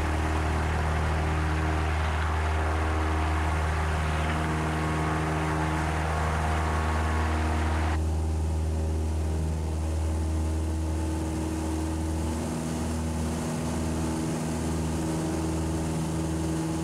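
A Cessna 172's piston engine drones loud and steady during the takeoff roll, heard from the cabin as a constant harmonic buzz, with a broadband hiss that drops away halfway through.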